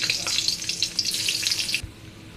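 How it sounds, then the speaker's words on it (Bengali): Garlic and onion frying in a wok after bay leaves, giving a bright, crackling sizzle with scattered pops close up that stops abruptly near the end. "এখন রসুন আর পেঁয়াজটা ভাজা করে নিচ্ছি"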